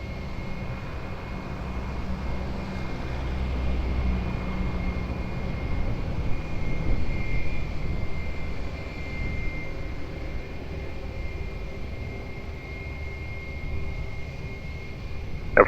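A plane on approach to runway 20 at Lisbon Airport, a low, steady engine rumble that swells slightly midway and then holds, distant and broad, with no voices.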